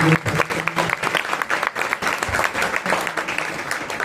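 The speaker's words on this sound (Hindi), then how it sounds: "तो जोरदार तालियों से आपकी तारीफ" Applause from the audience at an Arya Samaj annual gathering in Noida, a steady dense patter of clapping filling the hall for about four seconds, with some background voices mixed in.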